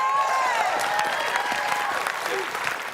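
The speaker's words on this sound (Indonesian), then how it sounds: "sekali lagi kita beri tepuk tangan selamat untuk tim B" A TV game show studio audience applauds the winning team with continuous, full clapping throughout, mixed with scattered cheering voices.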